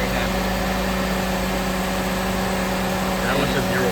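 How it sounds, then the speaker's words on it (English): A car engine idles low and uneven in a workshop during EGR and PCV lab testing, a steady close drone with a faint wavering roughness. "It's idling way down."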